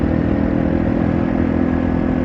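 A Yamaha TW200 motorcycle engine under way at cruising speed on back roads, a steady, loud, close single-cylinder drone with no talk.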